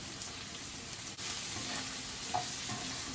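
Green chillies and turmeric fry in a pan with asafoetida and curry leaves, giving a dense, continuous close sizzle with a few faint stirring scrapes.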